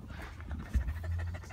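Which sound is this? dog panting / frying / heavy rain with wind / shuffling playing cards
dog panting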